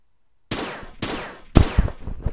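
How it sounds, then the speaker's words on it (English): Three sharp gunshots from the Mogeko Castle video game, each a sudden loud crack with a short decaying tail, spaced about half a second apart, the last one heaviest, alone without talk. "Oh no, he got shot."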